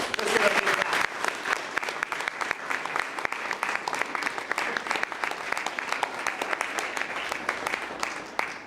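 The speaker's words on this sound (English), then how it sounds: "We'd like to give you all another big round of applause." Audience applause after a primary school Christmas nativity performance, many hands clapping in a steady, moderately loud patter that carries on for several seconds, with a brief murmur of voices at the start.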